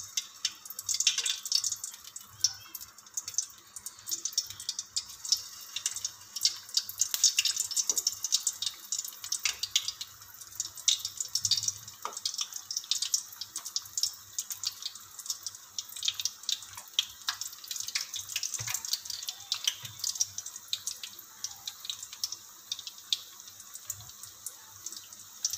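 Vegetable balls frying in hot ghee, a continuous dense crackle and sizzle with fine popping throughout, steady and moderately close with no talking.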